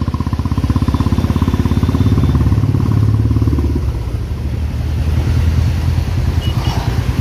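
Dense highway traffic on NH16 (old NH5) in Vijayawada in the evening, motorcycles and cars roaring past close by in a steady, loud engine rumble with clattering, no talk.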